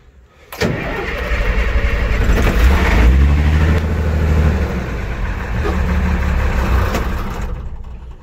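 An engine cranks and catches with an abrupt start, then runs loud and close with a few throaty revs rising and falling before settling toward idle.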